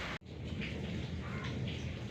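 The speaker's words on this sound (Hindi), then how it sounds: "हल्की हल्की बारिश हो रही है, सहन पानी से भर गया है, हवा भी चल रही है।" Steady rain with wind beating down on a flooded courtyard during a thunderstorm, a dense, even wash of noise broken by one brief dropout near the start, with no voices.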